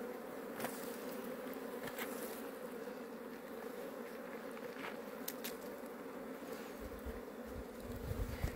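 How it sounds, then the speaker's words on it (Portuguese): Apis honey bees buzz during a hive rescue as smoke is puffed over the comb, a dense continuous drone close up, with a few soft knocks and handling noises near the end. "Como a gente bater uma fumacinha aqui, ó, aí as abelhas sobem lá pro canto, né?"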